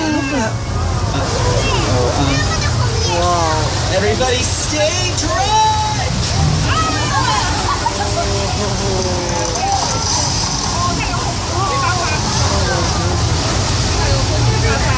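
Thousands of gallons of recycled water rush down a hill as a staged flash flood effect, a loud continuous roar and slosh, with a crowd of onlookers chattering and exclaiming over it throughout.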